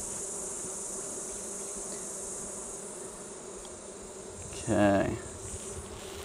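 Honey bees buzzing around an open Flow Hive, a dense continuous drone close by, with one brief spoken word partway through.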